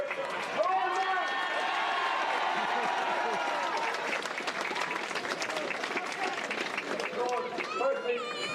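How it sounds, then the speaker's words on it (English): A crowd at a Westmeath GAA senior football final applauds a joint captain, with dense sustained clapping and cheering that fills the clip, close and loud. "I want everyone to give him a big round of applause here."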